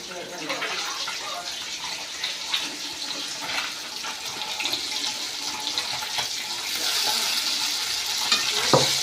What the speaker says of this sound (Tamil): கொஞ்சம் கொஞ்சமாக எண்ணெய் ஊற்றி பொறிச்சிக்கிறதுங்களா